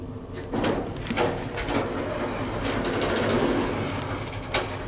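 Orona machine-room-less lift doors in a building slide open or shut with a steady mechanical rumble and whir, close and fairly loud, with faint clunks along the way and no talking.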